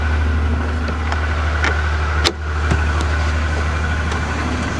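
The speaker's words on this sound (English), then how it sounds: "You can always depend on Chevrolet for starting up in minus 16 weather with almost a dead battery." A 1992 Chevy Lumina runs on a weak battery after a cold start in minus 16 weather, a loud close engine drone with a brief thump midway and a few light clicks, and no voices.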